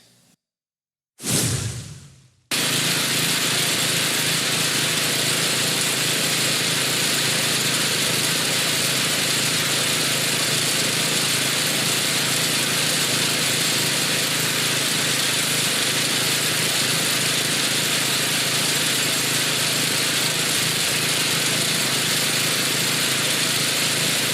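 A 1979 Toro 826 snowblower, a 26-inch machine with an 8hp Briggs & Stratton engine, fires up after a brief pull and then runs steadily at a loud, even drone, close by with no talking.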